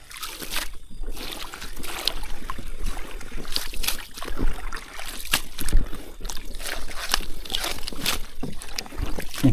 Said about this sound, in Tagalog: Nandyan yung bangka, ayan ang isa.